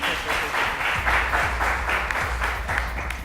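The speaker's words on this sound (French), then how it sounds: "On applaudit, hein?" Audience applause on a French television show, steady crowd clapping throughout with a dense, continuous texture and a faint voice underneath.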